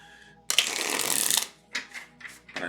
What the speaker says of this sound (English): I'm shuffling this deck a lot, but because it is a new deck, I want to get it good and shuffled.